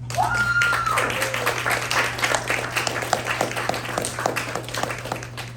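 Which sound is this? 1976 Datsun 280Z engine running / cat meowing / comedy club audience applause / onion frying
comedy club audience applause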